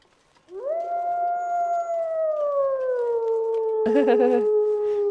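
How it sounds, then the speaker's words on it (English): A long, clear wolf howl from the survival game The Long Dark rises after a quiet start and holds a steady falling tone for several seconds, with a brief harsher burst near the end. "Thank you for the wolf howl, if it is."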